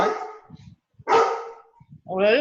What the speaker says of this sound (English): Oh, that is a dog.